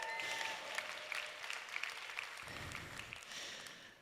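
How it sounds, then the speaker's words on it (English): A comedy show crowd gives another round of applause, a steady, fairly soft wash of many hands clapping that carries on for several seconds before easing slightly. "Give them another round of applause, please."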